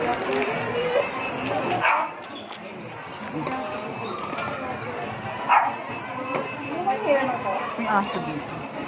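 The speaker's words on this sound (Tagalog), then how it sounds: "Aso dito." A dog barks a few times nearby in an indoor shopping area during a Christmas outing, with people chatting and talking over the scattered barks.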